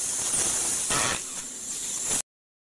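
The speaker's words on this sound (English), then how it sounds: "So then I decided to spray water everywhere." A spray bottle mists water over a praying mantis enclosure, a close, continuous hiss with a brief stronger burst in the middle that stops abruptly, followed by silence.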